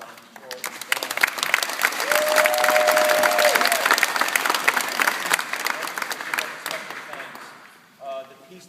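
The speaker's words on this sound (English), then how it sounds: "I want to give these folks down here a big round of applause and tell Mr. Ron Jordan and the band." An audience gives a round of applause at a band event, loud, dense clapping that swells and holds for several seconds before tapering off, with a brief voice near the end.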